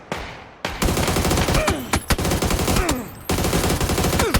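Dense gunfire in PUBG on the Taego map during a squad battle, with rapid automatic bursts and sharp single shots cracking nearby, loud and continuous with brief pauses between volleys.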